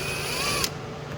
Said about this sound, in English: So I'm using a drill bit to drill these out here.